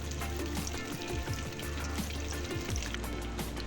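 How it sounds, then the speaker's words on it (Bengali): Fish roe koftas dipped in beaten egg fry in oil, a loud, continuous sizzle and crackle with steady bubbling throughout and no voices. "কোফতাগুলো এই ফেটানো ডিমের মধ্যে ডুবিয়ে তেলের মধ্যে ভালোভাবে ভেজে নেব"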